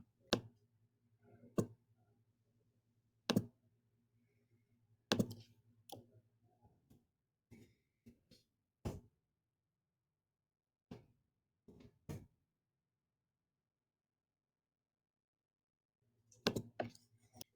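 Computer mouse clicks and keyboard typing, sparse sharp taps spread out with long quiet gaps between them, close and fairly faint, a low hum under some of the clicks.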